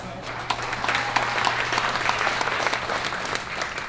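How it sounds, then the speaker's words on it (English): Wedding guests give a round of applause for the bridesmaids during a best man speech, sustained dense clapping with sharp individual claps standing out, evenly loud throughout the clip. "So a round of applause for them."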